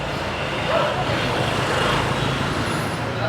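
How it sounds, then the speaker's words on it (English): Dense city street traffic with cars and motorcycles on a cool morning walk in Old Hanoi, Vietnam, forming a continuous, close, steady roar of engines and road noise with no pauses. "You will hear a lot of cars as well as motorcycles"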